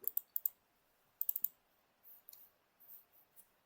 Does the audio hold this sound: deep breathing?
no